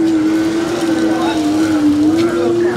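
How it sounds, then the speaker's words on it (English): An outboard boat motor somewhere near the shore in Prachuap Khiri Khan is over-revved, a steady loud high-pitched whine that wavers slightly, heard under faint background voices. "I don't know if somebody's over revving their outboard."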